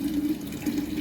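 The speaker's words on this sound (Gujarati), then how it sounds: "ત્યાં લગીમાં આપણે પાણી ભરી લઈએ" Water runs from a household tap into a container, a steady rushing stream with a faint droning tone and slight fluctuations, close and continuous throughout, with no speech.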